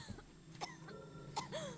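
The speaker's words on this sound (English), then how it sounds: "Oh no, she's coughing." A female character coughs in Resident Evil 4 (2005), a couple of short, faint coughs over quiet game background sound.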